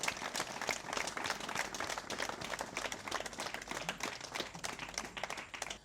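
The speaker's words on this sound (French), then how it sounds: "Je vous demande des applaudissements nourris pour ces personnalités de marque" Sustained crowd applause for dignitaries at a televised special event, dense rapid clapping from many hands heard at a moderate distance, steady throughout without pause.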